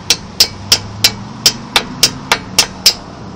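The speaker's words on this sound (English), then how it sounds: "Hit it down with your screwdriver." A screwdriver hammers a cotter pin into the rear brake of a 2005 VW Touareg during a rotor change: about ten sharp, evenly spaced metallic taps land close and loud against a quiet background.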